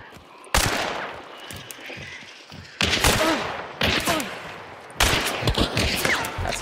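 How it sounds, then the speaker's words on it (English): Gunfire in the video game Hunt: Showdown, several loud separate bursts of shots with echoing tails, some closer and some farther off, with brief talk between them. "Are they shooting you? Yeah, they're shooting."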